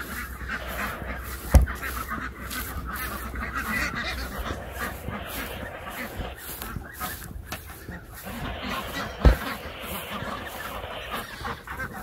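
Ducks and other poultry call outdoors on a cold farm, honking and quacking faintly over a steady background, with two soft thumps nearby.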